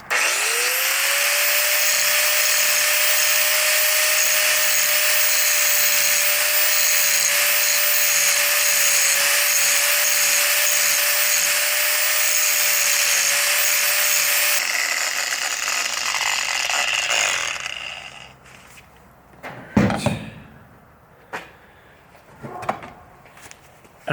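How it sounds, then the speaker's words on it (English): An angle grinder, loud and close, runs in one long steady whine as it cuts weld blobs off an old swivel-jaw bench vise, then spins down, followed by a few sharp knocks and clatters of metal. "Now I'm just going to grind these weld blobs off."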